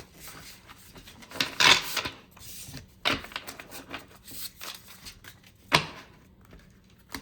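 Lightly coated cardstock oracle cards are shuffled by hand in a quiet room, with soft rubbing and sliding and a few sharper snaps and taps spread irregularly over several seconds.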